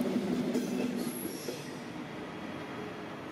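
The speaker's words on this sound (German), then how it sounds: "Gezogen bzw. geschoben werden alle Züge von Elox der Baureihe" Train hauled or pushed by a class 143 electric locomotive at Frankfurt main station, a steady rolling rumble with brief high wheel squeal, heard fairly close and without talk.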